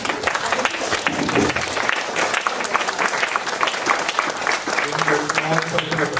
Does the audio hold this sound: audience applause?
yes